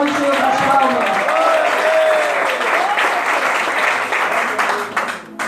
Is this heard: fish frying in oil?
no